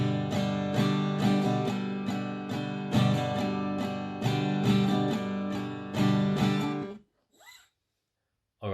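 Acoustic guitar strummed in a steady rhythmic pattern on a single verse chord for a song, bright repeated strokes for about seven seconds, then stopping abruptly into near silence.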